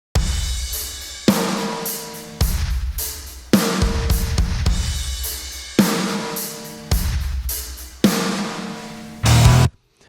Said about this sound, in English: I have this filter drum part right here that sounds something like this.